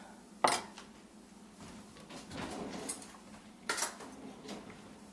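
A knife cuts mango into cubes on a board, giving a few sharp, scattered taps and scrapes with quiet pauses between them.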